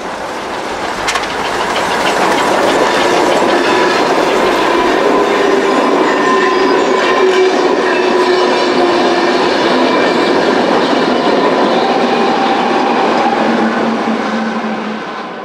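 A steam special train rolls past St. Nikolaus church in snowy Wulmeringhausen in the Sauerland, a sustained rumble with rattling carriages that swells and fades steadily over fifteen seconds.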